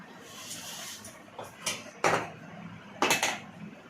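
A spoon scrapes and clinks against a cooking pan as a spoonful of ghee is added for fried rice or mutton kosha, with a few distinct metallic knocks up close.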